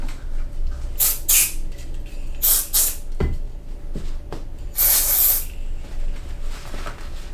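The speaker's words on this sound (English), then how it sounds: "I think I'm gonna have to spray some of that stuff on my hands." Several hissing bursts from a spray can, short puffs followed by one longer spray, fairly close with faint handling noises between them.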